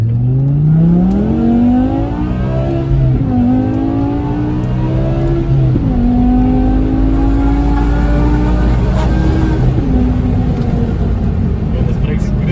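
A BMW E60 M5 with its V10 engine, driven gently on the road, gives a loud, steady engine drone that climbs in pitch and drops back at each gear change. Voices talk over it throughout.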